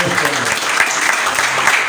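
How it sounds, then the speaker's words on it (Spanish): A church congregation applauds during a sermon, a brief burst of loud clapping with voices mixed in underneath. "Denle aplauso fuerte al Señor."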